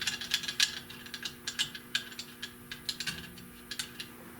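A hand ratchet drives a bolt into a bucket seat mounting bracket on a 1970 Buick Wildcat, a steady series of sharp metallic clicks in quick bursts, close and fairly quiet, with no talking.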